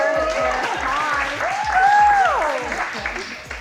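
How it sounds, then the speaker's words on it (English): An audience claps steadily for the mayor at an induction cooking demonstration, with a tonal hum running under the applause. "Round of applause for Mayor"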